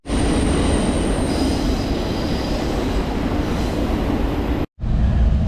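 A CSX freight train rolls past close by with a loud, steady rumble of railcars and wheel noise, including some high squealing, cut by a brief gap near the end before the roar resumes.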